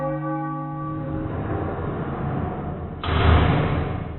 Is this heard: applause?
no